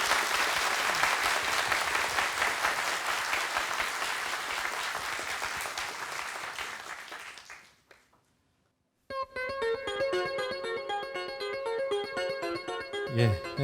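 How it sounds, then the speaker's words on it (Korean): A concert-hall audience at an economics talk on humans and robots applauds a robotics professor, loud dense clapping lasting about seven seconds before fading out, then bright electronic music begins. "한재권 교수님께 다시 한번 박수 부탁드릴게요"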